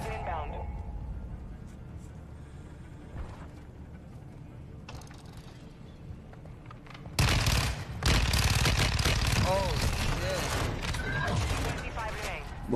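Rapid automatic gunfire in a first-person shooter game bursts in suddenly after a quieter stretch of mechanical clicks, then rattles on loud and continuous with a voice talking over it.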